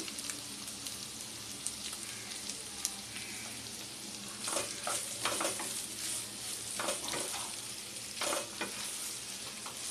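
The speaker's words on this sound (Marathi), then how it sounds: "आणि असं चांगलं परतून घेऊया." Potatoes sautéing with ginger and green chili in a pan, a faint, steady sizzle throughout, joined halfway by bursts of louder scraping stirring strokes close by.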